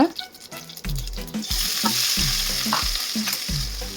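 Onions and dried chili fry in oil in a pan for sundakkai kara kuzhambu while a spoon stirs and scrapes rhythmically, several clanking strokes over the continuous frying hiss.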